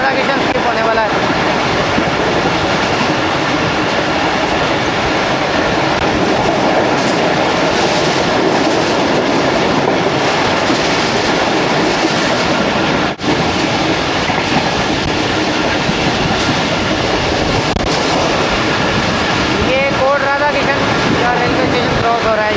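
Pakistani express train, the 116 Down running toward Multan, cruising at about 105 km/h at night; steady loud rumble and clickety-clack of wheels on rail throughout, with a brief squealing whine near the end.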